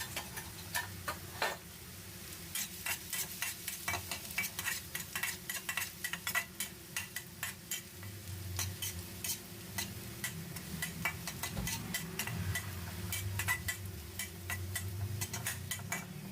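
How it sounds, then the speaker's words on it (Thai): Chopped garlic fries in hot oil in a pan with a steady faint sizzle, while a utensil stirs and scrapes in quick irregular clicks and taps throughout; no talk. "เมื่อน้ำมันร้อนแล้วก็ใส่กระเทียมสับลงไปผัดครับ"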